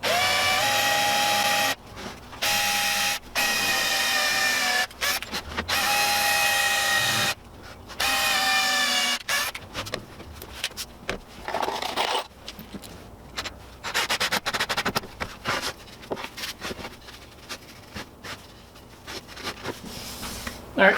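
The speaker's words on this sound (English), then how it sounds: "You want to make sure to screw it into the lower plate." Screws driven into the lower plate of a scrap wood tortilla press, a powered driver whirring in repeated steady bursts with short pauses, followed by rougher rubbing and knocking of wood, with a person talking at times.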